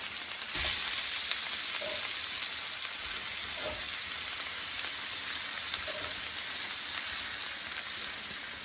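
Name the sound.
beef stew meat browning in oil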